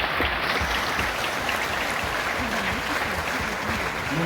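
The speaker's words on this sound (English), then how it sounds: "may I request all the men over here to bring your hands together and applaud our women" Audience applauding men for the women at a digital health summit and awards event in New Delhi, a dense, steady wash of clapping throughout with faint voices underneath.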